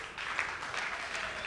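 Applause from an audience at a ceremonial fight weigh-in, a steady wash of clapping that holds at moderate loudness from start to finish, with no voices over it.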